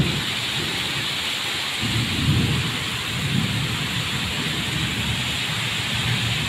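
Heavy monsoon rain pours in a loud, constant roar on surfaces close by, while deep rumbles of thunder swell and fade beneath it, with no voices.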